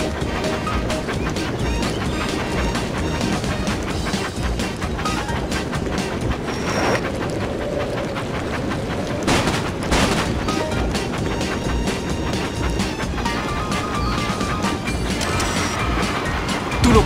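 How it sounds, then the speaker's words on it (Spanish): Toy locomotives race around the tracks of a quarry in a children's train game. There is a continuous rumbling rail clatter with sharp booms and clashes scattered through it. Busy music plays throughout, and there is no talk. "A las locomotoras les encantan las carreras. Veamos cuál es la más rápida en una emocionante competición por toda la cantera."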